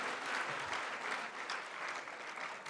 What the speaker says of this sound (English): One more time, give yourself a round of applause for all the work you've done tonight.